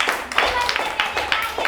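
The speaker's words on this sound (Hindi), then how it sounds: "जीवनधर के लिए तालियां बजाइए," Applause for Jivandhar in a Hindi lesson: a crowd claps in a steady rolling patter through the whole moment, with a few sharper individual claps standing out.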